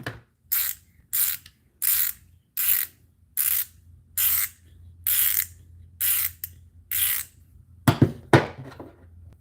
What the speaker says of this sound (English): I spun the gear.